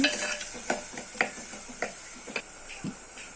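Spoon scraping and stirring green chillies and onions through a pan for silver fish curry, irregular soft clinks and scrapes over a faint sizzle, close by.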